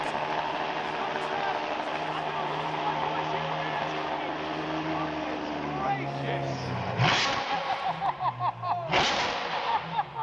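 A Mansory Stallone Ferrari 812 GTS with straight-pipe exhaust rumbles at a loud, steady idle, then snarls through two sharp revs near the end, with people talking over it nearby.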